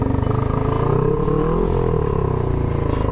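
A worn-out Honda CB500 rat bike engine runs loud and close, a rough, rapid thumping exhaust with some mechanical clatter and a slight rise in revs partway through.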